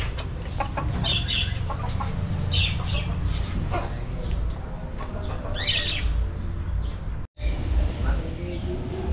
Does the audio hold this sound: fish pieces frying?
no